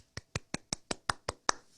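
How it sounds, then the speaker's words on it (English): A golf clap of eight soft, evenly spaced hand claps in quick, steady rhythm, quiet and close with nothing else behind them. "Golf clap."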